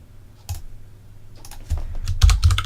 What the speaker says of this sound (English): So if we press the escape button